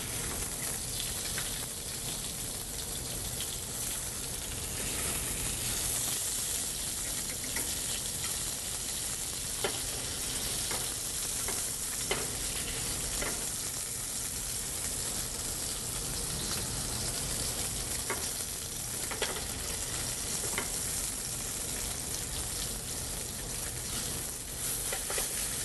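Salmon fillets fry in a hot pan with a steady, dense sizzle and crackle that stays close and constant throughout, with occasional small pops and no voices.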